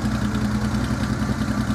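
Porsche 911 SC engine idling close by, a loud, steady, even mechanical hum with a faint clatter running through it and no pauses.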